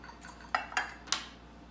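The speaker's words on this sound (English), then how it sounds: "I'm going to start with 1 scoop each, and then I'll probably go around and top off." A metal scoop clinks three times against a muffin pan as lemon poppyseed muffin batter is portioned out, soft quick taps close up in a quiet kitchen.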